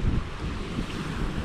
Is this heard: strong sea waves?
yes